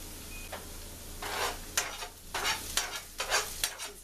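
Onions frying in butter inside a rice cooker, a soft crackling sizzle broken by several short bursts of stirring and scraping at irregular intervals, close and fairly quiet with no talk.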